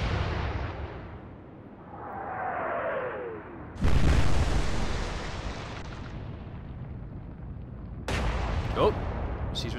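In the naval game Atlantic Fleet, a battleship's main guns boom, shells whistle down in a falling sweep, then a sudden loud impact blast hits, trailed by rumbling and another sharp burst of explosions later, with some voice faintly present.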